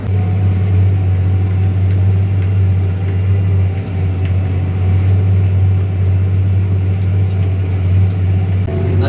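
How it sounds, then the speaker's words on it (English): A farm tractor engine idles steadily while warming up, a loud constant low rumble close by with no change in pace and no talk. "First we're going to let the tractor warm up a bit before we just start"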